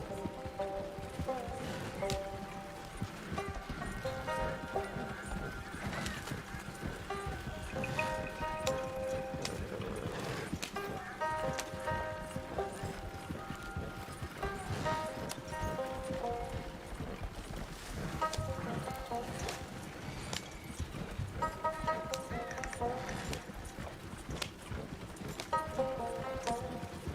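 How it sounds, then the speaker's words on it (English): Horse hooves galloping in the Red Dead video game, a fast continuous clip-clop with game music and ambience layered underneath. "This horse is getting a crazy whipping."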